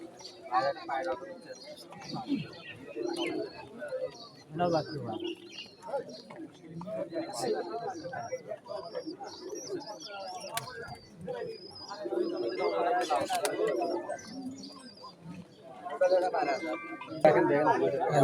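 Giribaz pigeons coo at the Tulsihat pigeon market, a busy mix of soft repeated coos and chirps, with people talking and chattering nearby throughout.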